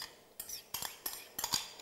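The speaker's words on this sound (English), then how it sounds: "Then I'll give it a stir" A spoon stirring thick coconut milk and rice in a pot, four distinct scraping, clinking strokes at a steady pace, close and fairly quiet, no talking.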